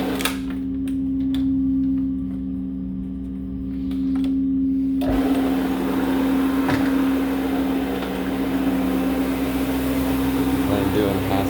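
CRB counter-rotating brush machine cleaning a dirty mobile home carpet, a steady mechanical hum with a sustained tone and ticking, growing louder and fuller midway as the brushes engage, with speech over it.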